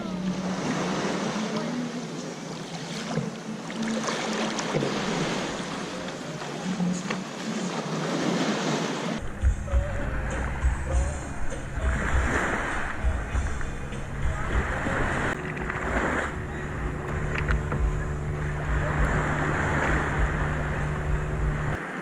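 Ocean waves wash in at high tide on a beach at Koh Phi Phi, Thailand, a steady close surge with wind across the microphone, getting heavier and rougher in the second half.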